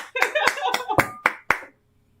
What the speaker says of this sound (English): Round of applause for Jet for doing it.